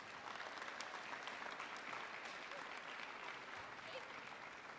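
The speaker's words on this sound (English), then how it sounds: "Let's give them another round of applause." Sustained audience applause filling an awards ceremony hall, dense steady clapping from a crowd at a JROTC cadet event, heard at a moderate distance with no pauses.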